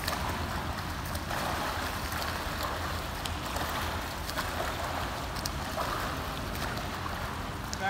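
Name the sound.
person swimming freestyle crawl stroke in water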